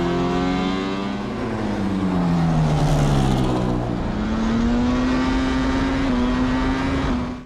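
Racing MotoGP motorcycle engines roar at the start of a race in a film, with one loud, close engine whine dipping and then climbing to a sustained high pitch over a dense background rumble before cutting off abruptly.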